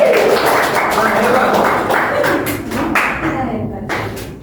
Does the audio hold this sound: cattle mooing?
no